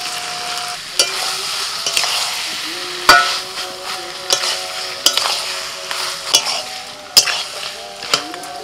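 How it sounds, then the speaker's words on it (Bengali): Mutton frying with a spice paste in a pot: steady sizzling broken by repeated sharp scrapes and knocks of a spoon stirring against the metal, with a distant chanted call in the background. "5 মিনিট মশলাটা কষিয়ে নিয়েছি, এবার আমি মটন দিয়ে দেবো।"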